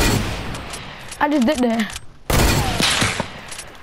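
AK rifle fire in a video game crackles in short bursts at the start and again after a brief pause, close and loud, while a player speaks over the shooting.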